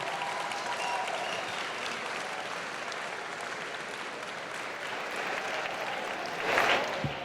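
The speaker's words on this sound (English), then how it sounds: "Please join me in giving them a big round of applause." Sustained crowd applause for volunteers at the Terry Fox Walk/Run charity event, steady clapping from a sizable outdoor gathering with a brief louder swell near the end.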